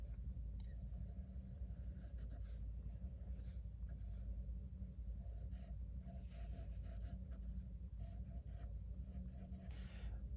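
Graphite pencil scratching steadily across paper while sketching faces, a continuous close scrape of strokes over a low background hum and rumble.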